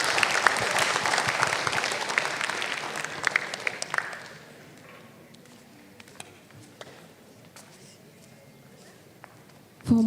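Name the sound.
applause for the speakers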